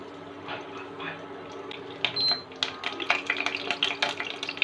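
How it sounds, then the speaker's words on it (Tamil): Two curry leaves dropped into hot oil in a kadai sizzle and crackle, starting faint, then popping in quick bursts, close by. "சும்மா 2 கருவேப்பிலையை எண்ணெயில் போட்டுடலாம்"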